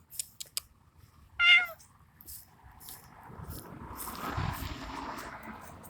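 A white and orange cat lets out a single short meow outdoors in a neighbor's yard, fairly faint and distant, followed by soft rustling and low background noise.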